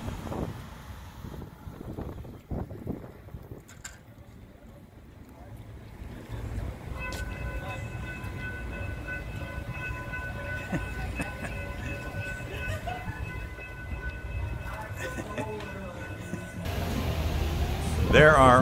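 A train rushes past about 15 feet in front of an outdoor bar in Palm Beach County: a low rumble swells into a steady roar with sustained whining tones, growing loudest at the end, while people talk in the background.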